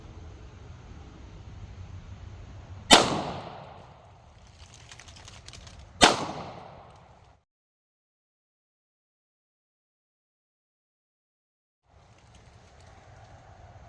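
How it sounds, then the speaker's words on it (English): Two .40 S&W Barnes TAC XPD defensive rounds fired in low light, each a sharp, loud crack about three seconds apart with a short decay, over faint background noise and then silence. "Let's move on to the Barnes TAC XPD and see what they do."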